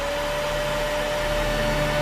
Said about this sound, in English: I am going to clean the whole house with my super vacuum power.